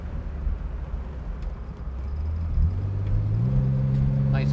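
A 1965 Chevrolet Corvair Monza coupe accelerates on a road, its engine note rising steadily and then climbing in pitch after a transmission kick-down, with a steady rumble heard from inside the car.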